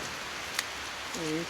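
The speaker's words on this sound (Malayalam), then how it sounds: "അയ്യോ മഴ പെയ്യുന്നു," Rain falls as a steady, soft hiss, with one brief tick and a short voice near the end.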